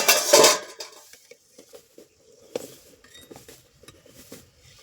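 A metal lid comes off a pot of boiled eggs being cooked for egg kaliya, with a loud clatter of metal at the start and then softer clinks and scrapes of utensils.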